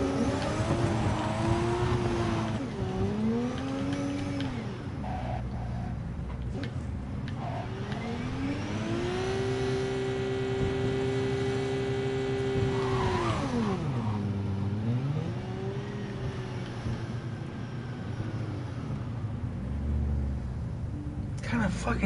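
A car engine revs repeatedly, its pitch climbing, holding high, then dropping and surging again in long sweeps. It stays steady and fairly close throughout.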